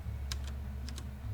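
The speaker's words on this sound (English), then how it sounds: "a keyboard click" Several sharp keyboard clicks in quick pairs, crisp and fairly close, sounding over a steady low hum during an online tabletop game night, with no talking.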